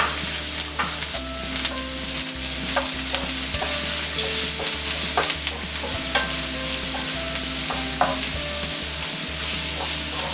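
Finely chopped onion and green chillies frying in a pan over medium gas for egg bhurji, with a constant sizzle, repeated scraping stirs and a low steady hum underneath, no voices.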